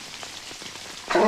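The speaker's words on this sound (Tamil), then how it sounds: "அதான் தி செயற்கை மழை ப்ரொடியூஸ் பை ஆளுங்கட்சி ஆறுமுகம்" Artificial rain falling in a comedy film scene: sparse, soft patters at first, then a sudden louder burst of splashing rain near the end.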